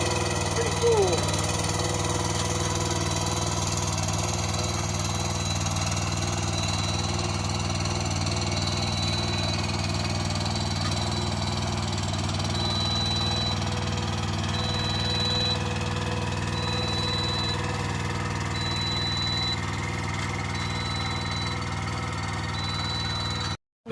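A remote-controlled work machine with outriggers runs its engine in a continuous, fairly quiet idle-like drone, with a faint repeating whine above it and no talk.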